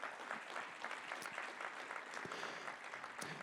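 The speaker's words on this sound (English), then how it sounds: "So give yourselves a round of applause as well." An audience at a university scholarship event gives a sustained round of applause, many hands clapping in a dense, steady roar with sharper individual claps standing out now and then.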